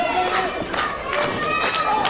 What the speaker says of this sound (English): This crowd in Lamont Furnace trying to rally behind Phoenix